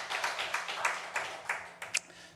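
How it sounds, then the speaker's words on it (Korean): A congregation at a Korean Sunday church service claps in a steady, even rhythm of quick beats, fairly soft and a little distant, with a couple of sharper claps near the end. "우리 하나님께 영광의 박수 올려드릴까요?"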